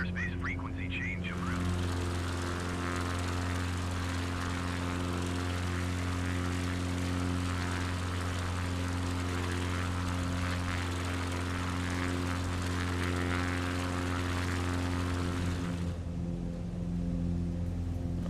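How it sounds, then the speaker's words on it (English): Small propeller plane in Microsoft Flight Simulator climbing aggressively toward the clouds, its engine a steady, loud droning hum with strong low harmonics that holds evenly throughout, dropping slightly near the end. "we've got to get above those clouds in this little plane, so this is going to take some fairly aggressive climbing all the way up"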